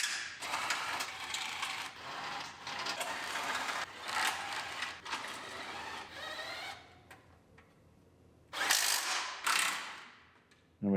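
Ratchet snugging up bolts during an RDX build, with several bursts of rapid clicking separated by short pauses and a final quick burst near the end, close and fairly quiet.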